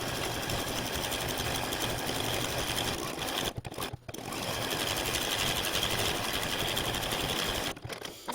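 Loud and close, a sewing machine runs fast while stitching bias tape around a quilted earmuff band, a dense continuous rattling hum broken by two or three brief stops.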